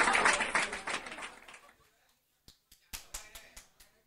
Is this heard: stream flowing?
no